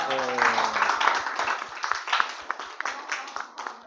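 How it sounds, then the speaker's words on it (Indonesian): An audience claps in a room, a burst of scattered, uneven handclaps that thins out into a few sharp isolated claps, with a voice speaking briefly at the start. "Boleh berikan aplaus"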